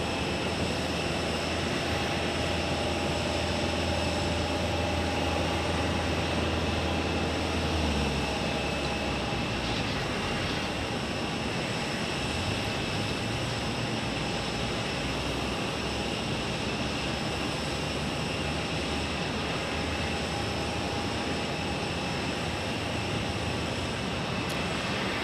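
Steady, broad roar of jet aircraft arriving at Phoenix Sky Harbor Airport, heard from a distance as continuous engine rumble without pause.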